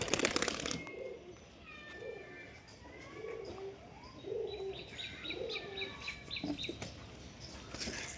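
Domestic pigeons, matured and moulting, coo in a loft, with a repeated series of low rounded coos at an even rhythm, close and moderately loud, while fainter chirps of other birds sound in the background and no one speaks.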